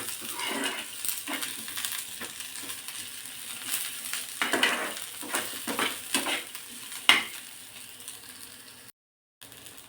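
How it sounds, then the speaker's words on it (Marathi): Thinly sliced onion sautéing in oil for a spicy katachi amti, a gentle sizzle under repeated scraping and clinking stirs of a spoon in the pan, close, ending in a brief silence. "आता हे सुद्धा या तेलावरती खमंग परतून घ्यायचं आहे।"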